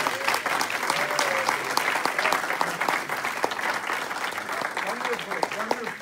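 Audience applause fills a reception hall, steady and dense clapping from a sizable crowd throughout, with voices murmuring and talking underneath the clapping.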